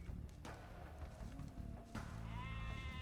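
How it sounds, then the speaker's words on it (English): Sheep in the Age of Empires II: Definitive Edition video game bleat in a few short, faint calls, with a soft light tapping in the background. "villagers can herd sheep or hunt deer for food"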